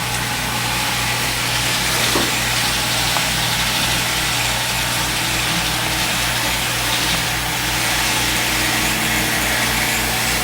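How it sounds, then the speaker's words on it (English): A powered Kato SD40-2 model railroad locomotive runs with a loud, steady mechanical hum and buzz that holds evenly from start to finish; no distinct squeak stands out. "One of the locomotives has got a squeak."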